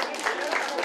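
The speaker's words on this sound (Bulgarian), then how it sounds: "Аплодисменти." An audience at a folk festival in Strandzha applauds after a folk song from the Sredets area, giving a brief, dense burst of clapping heard close and loud.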